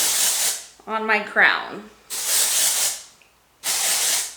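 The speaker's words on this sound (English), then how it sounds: "let's spray a little bit more of the dry shampoo" Dry shampoo sprays from an aerosol can onto greasy hair in three long, loud, close hissing bursts, with someone speaking briefly between the first two.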